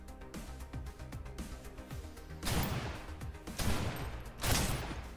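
Gunfire in the shooter game Snowbreak: Containment Zone, with three loud broadband shot bursts at roughly one-second spacing standing out over busy game music and effects.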